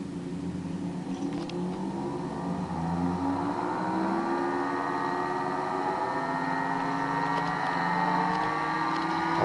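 A pulse motor rotor spins up steadily, a smooth whirring hum whose several tones rise slowly in pitch as the speed builds, close and fairly loud, with no talking.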